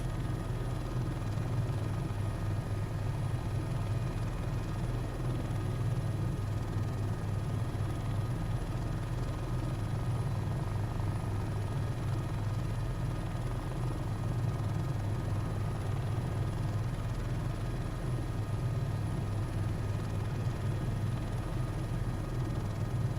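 Helicopter hovering and hover-taxiing in Microsoft Flight Simulator, a continuous, even rotor and engine drone that stays loud and steady throughout, with no talk.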